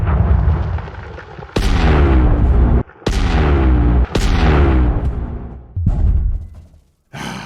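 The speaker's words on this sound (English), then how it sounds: "these explosions and exemplary sound design does not stop being great in Elite Dangerous" Explosions from asteroid mining in the space game Elite Dangerous, four heavy booming blasts in quick succession, each a sharp loud crack with a rumbling decay, close and alone with no talk.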